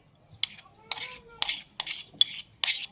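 A spoon clinks and scrapes against a bowl while ground garlic paste is scooped out, about six light, evenly spaced taps close up with faint background hum.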